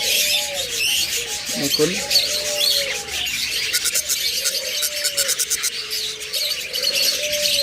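Caged budgerigars chirp and warble continuously at a bird seller's, a dense, bright chatter of many birds close by, with someone speaking over them.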